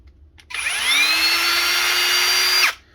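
A Ryobi brushless hammer drill spins up at its highest speed setting, a loud close whine that ramps up quickly, holds steady for about two seconds, then stops abruptly.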